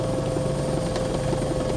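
Helicopter rotor and engine noise, a steady loud thrumming drone with rapid blade chop filling the whole stretch, close and continuous with no pauses.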